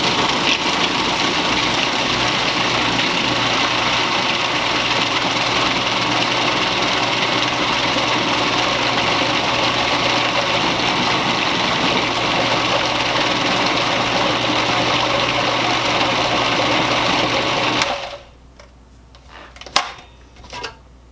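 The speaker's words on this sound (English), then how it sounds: "we're just going to grind this up then until it's like a dough mixture." A food processor grinds chickpea cookie bar dough, a loud constant whirring drone that runs for about eighteen seconds and then cuts off, leaving a few faint clinks and a small knock.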